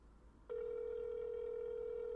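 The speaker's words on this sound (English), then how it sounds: "You hear his phone going off in there." A phone rings inside a house, a steady electronic tone starting abruptly and holding continuously, faint and muffled as if heard from outside.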